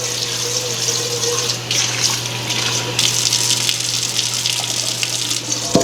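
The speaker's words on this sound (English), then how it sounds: "Just put a little water in the bottom." Running water from a tap pours steadily into the bottom of a baking dish, a loud, continuous close-up splashing and gushing with no talk.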